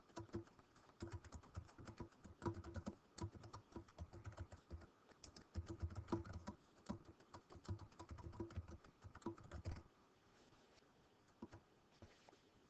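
Steady clatter of keys being typed on a computer keyboard, quick irregular taps for about ten seconds before falling quiet.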